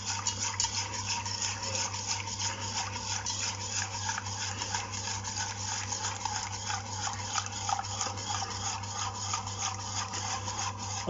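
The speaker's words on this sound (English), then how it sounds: "I'm whisking as I go" Metal whisk scraping and rubbing steadily around a pan as piccalilli sauce heats, a continuous close raspy stirring texture with a low hum beneath, no talking.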